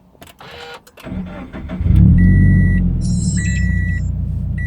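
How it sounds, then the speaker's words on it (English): A 2015 Subaru BRZ sports car engine fires up and settles into a loud, steady low rumble at idle, with faint higher tones chirping over it. "that's how the car sounds on idle now. It's a nice little rumble."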